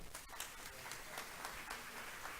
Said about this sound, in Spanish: los recibimos con este aplauso